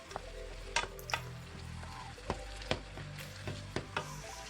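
Rice noodles stir-fried with soy sauce in a pan: a quiet sizzle broken by several sharp spatula clacks and scrapes at irregular intervals.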